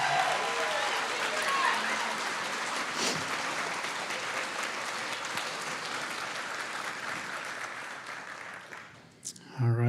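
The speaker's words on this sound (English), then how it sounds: "how about a round of applause for the phenomenal faculty and staff" A graduation audience applauds faculty and staff, producing steady, dense clapping that fills the room and fades out near the end.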